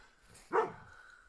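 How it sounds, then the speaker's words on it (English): A single sharp bark rings out close by at a fence line where horses are nearby, with quiet outdoor background before and after. "Oh, there are my two dogs. That's why they're barking."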